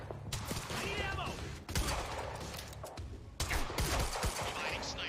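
Rapid bursts of gunfire in the video game Quantum Break crackle in several clustered volleys separated by short gaps, with voices mixed in.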